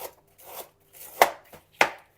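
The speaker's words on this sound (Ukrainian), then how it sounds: "Дорізаю капусту." A knife chops through cabbage on a board, cutting long strips for borscht: several crisp cuts in an uneven rhythm, two sharper strikes standing out, close by.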